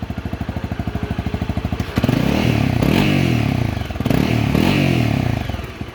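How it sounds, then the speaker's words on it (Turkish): A Honda motocross motorcycle engine idles in a rapid, loud putter, then revs hard twice in quick succession, each rev rising to a roaring blat before dropping back toward idle. "Vur bir ara gaz bakalım."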